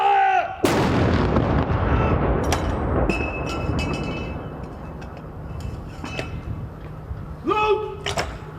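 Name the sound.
ceremonial artillery gun salute firing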